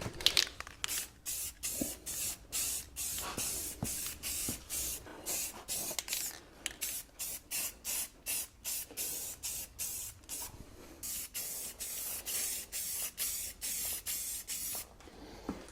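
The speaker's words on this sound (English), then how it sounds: "I hate spray painting" Repeated short bursts of an aerosol spray can hissing close by, coming in a quick stop-start rhythm with brief gaps between sprays.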